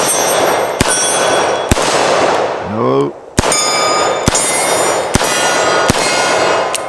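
A Smith & Wesson 686 Plus revolver fires .38 rounds outdoors, seven sharp, loud, evenly spaced shots ringing with metallic clangs, one gap holding a brief rising whir.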